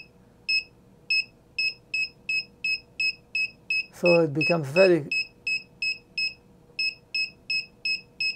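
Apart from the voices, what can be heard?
ESP32 buzzer beeping as car reverse range warning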